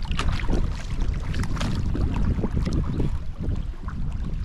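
Paddles working a kayak or canoe on the Jacks Fork River, with steady water splashing and sloshing strokes close by and wind buffeting the microphone throughout.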